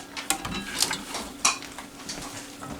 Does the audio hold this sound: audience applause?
no